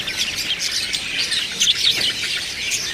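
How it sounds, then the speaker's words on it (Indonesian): Parakeets in a bird market kiosk chirp in quick, bright bursts, several birds overlapping at moderate distance. "di kios ini juga ada burung parkit"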